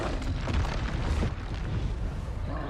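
Loud, rumbling fiery blast from a Confringo explosion spell in the Hogwarts Legacy game, a dense burst of booming noise that swells briefly and then rolls on as a low, roaring churn.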